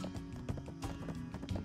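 Horse hooves galloping in the Black Desert video game, a quick run of soft clip-clop beats close by, mixed with game ambience and no talk.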